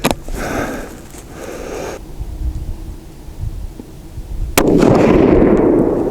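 A TC Compass rifle firing a Sierra Palma 155-grain bullet gives a single sharp, loud crack outdoors, with some wind and handling noise before it and a lingering roar afterward.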